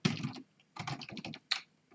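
Quick bursts of close keystrokes on a computer keyboard at a Linux command line, three short clusters of crisp clicks separated by brief pauses.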